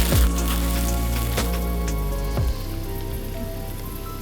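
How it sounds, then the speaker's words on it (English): Raindrops falling outdoors over a clover field, a steady soft patter of rain across the whole stretch with a few sharper drop impacts standing out near the microphone. "you see some raindrops falling, which we really need it"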